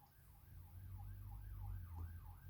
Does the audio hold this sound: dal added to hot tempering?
no